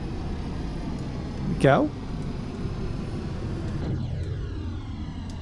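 A Saunders-Roe SR45 flying boat in flight in Flight Simulator X gives a steady, droning engine hum throughout, with a voice speaking briefly over it.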